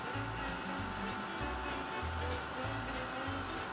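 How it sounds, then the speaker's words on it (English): Gentle, lower-heat embossing heat gun blowing hot air, a steady broadband whoosh with a low pulsing hum, continuous and fairly close throughout. "this particular heat gun, like I said before, is a more gentle heat. You can absolutely use it for embossing"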